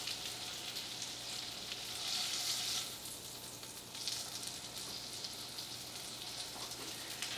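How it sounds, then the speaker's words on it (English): Chicken breast sears skin side down in hot oil, giving a steady, fairly quiet crackling sizzle that swells briefly and continues alone throughout. "I'm giving it a sear to crisp the skin."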